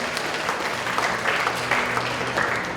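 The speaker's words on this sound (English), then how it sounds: "Big round of applause for KAIS." An audience at a VEX Robotics tournament applauds a school team, steady dense clapping throughout with a few louder swells, no voices standing out.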